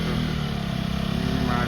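A KTM Duke 250 Gen 3 motorcycle engine running steadily nearby, a continuous low throbbing drone with a slightly rising, rough pulse toward the end.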